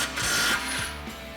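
An impact wrench with a 21mm socket spins off the front brake caliper mounting bolts on a Ford F-150 in one short, loud, close mechanical burst that tapers away within about a second and a half.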